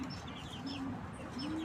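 Pigeons cooing among backyard chickens, soft repeated low coos close by over a steady background murmur.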